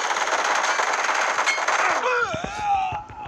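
Rapid automatic gunfire bursts loudly in a BGMI match, a dense volley of shots for two seconds before tapering into scattered single shots and ringing echoes.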